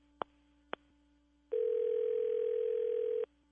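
A telephone dial tone sounds while a call is being placed: two sharp clicks, then a steady, loud, unbroken tone that holds for nearly two seconds before cutting off.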